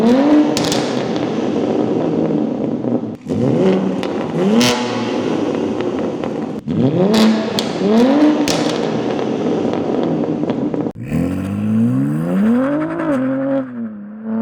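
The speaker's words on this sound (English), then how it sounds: "This is what the X-pipe sounds like." A BMW with an X-pipe, OPF-delete exhaust revs repeatedly in sharp bursts, rising and falling in pitch with crackling between, loud and close, with a deeper, smoother rev near the end.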